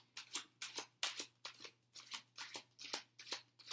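Playing cards flicked over one by one in a steady rhythm, about ten crisp papery snaps close by with no talking, a faint low hum beneath.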